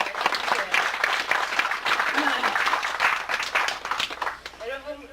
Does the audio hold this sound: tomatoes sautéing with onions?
no